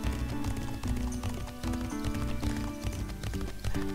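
Horse hooves gallop in a video game, a quick, steady clip-clop rhythm pounding under a backdrop of game music, close and continuous for a few seconds.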